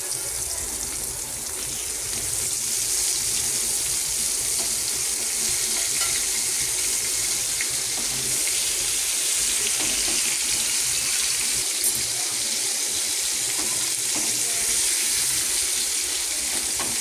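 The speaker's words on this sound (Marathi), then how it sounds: "असा करून या मच्छी असेच फ्राय करून घेते." Fish fries in a pan with a loud, dense, continuous sizzle that stays close and even throughout, with faint stirring underneath.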